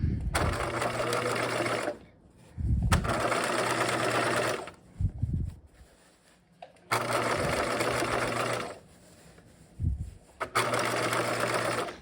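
A sewing machine topstitches along the folded opening of a backpack bag in contrasting thread, running in loud, steady whirring bursts of about two seconds separated by short pauses, close up.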